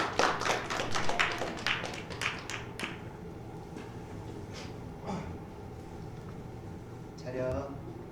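A congregation at a Christmas church service claps to welcome a performer, a burst of scattered hand claps in the first few seconds that quickly thins out into quiet room noise with faint voices.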